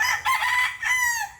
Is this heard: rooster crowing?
yes